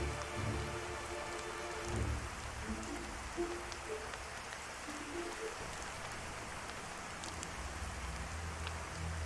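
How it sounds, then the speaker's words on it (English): Torrential rain on a dark, stormy night, a dense, steady roar of heavy rainfall pattering on surfaces, continuous and fairly close throughout. "A torrential rain fell upon the land as heavy wind shook all of its nature to its core."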